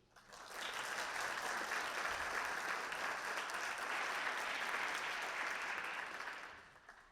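An audience claps to welcome a speaker named Amanda onto the stage. The steady, even applause rises quickly, holds for several seconds and then tapers off, with no voices over it.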